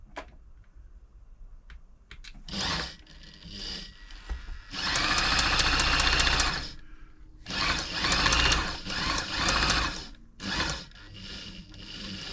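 A Brother XL5012 sewing machine runs during servicing in several bursts of steady mechanical whirring and rapid stitching chatter, separated by pauses and handling knocks, fairly close with no talking.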